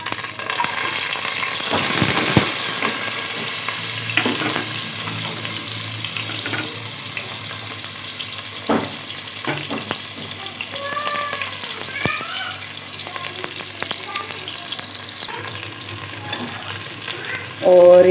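Onions fry in a little oil in a pan for qeema with a busy sizzle, while running water, clinks and brief stirring noises cut in and a few faint chirpy sounds appear midway.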